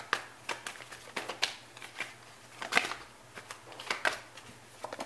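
Tarot cards are shuffled and drawn from a deck, giving a string of close, crisp papery flicks and snaps in irregular bursts over a quiet low hum.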